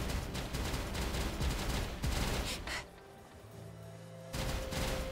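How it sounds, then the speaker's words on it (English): Machine gun fire in a video game, dense rapid rattling bursts that are loud and continuous, broken by a short lull before the shooting resumes. "A machine gun."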